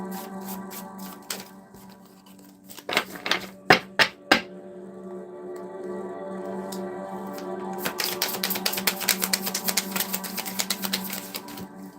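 Tarot cards shuffled in a single pass, a quick run of sharp riffling snaps followed by a longer, denser flutter of card edges, close and fairly quiet over a faint steady background hum.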